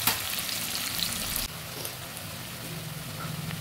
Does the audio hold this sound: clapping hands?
no